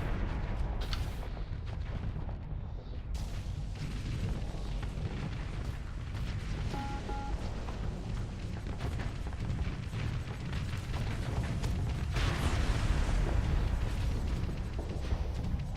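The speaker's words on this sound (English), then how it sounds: "I'm gonna see if I can drop a few more torpedoes into his internal" Dense, continuous rumbling booms and blasts of torpedoes and weapons striking a ship in the space combat game Starsector, loud and unbroken throughout with layered explosive impacts and no talking.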